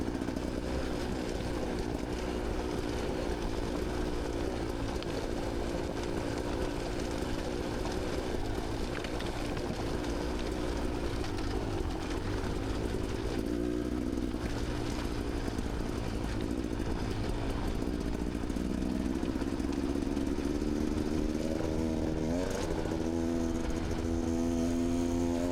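A Beta X-Trainer dirt bike descends a gravel hill with its engine running at a low, steady drone that rises in pitch near the end, fairly quiet and with no talking.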